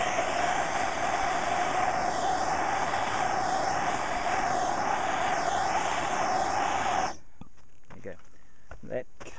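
A steady roaring torch flame anneals a brass cartridge case that has been deprimed and lightly polished, holding loud and continuous for about seven seconds before cutting off, followed by faint clicks and handling noises.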